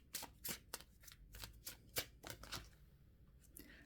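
Tarot cards being shuffled by hand, a quick run of crisp riffling snaps and soft slides close to the mic, with no voices.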